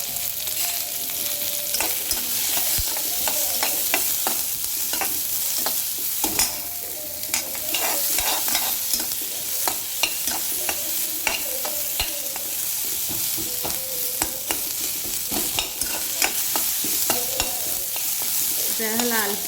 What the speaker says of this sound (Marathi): चला आपण कांदा हा फ्राय करून घेऊया लालसर।